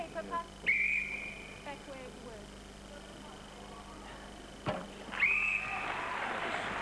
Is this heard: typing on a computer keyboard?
no